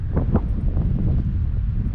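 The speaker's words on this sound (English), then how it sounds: "it is super windy" Strong wind buffets the microphone continuously at about 10,000 feet elevation in a natural amphitheater near Las Vegas, a heavy low rumble with gusty surges throughout and no voices.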